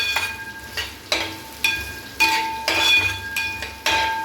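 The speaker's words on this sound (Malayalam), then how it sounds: "തേങ്ങ വെറുതെ ഒന്ന് ഇളക്കിയാൽ മതി" Grated coconut is stirred in a metal pan with a spoon, giving close, rhythmic scraping strokes about twice a second, each with a bright metallic clink and ring, and no talking.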